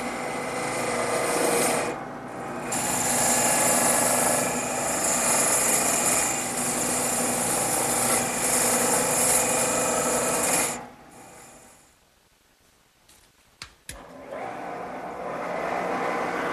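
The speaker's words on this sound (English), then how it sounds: "I'm going to speed up the lathe a little bit and make the final cuts" Wood lathe spinning faster as a chisel makes the final cuts on a table leg, a steady loud rasping scrape that runs unbroken for about ten seconds, then drops away to near silence with a few sharp knocks before the cutting resumes.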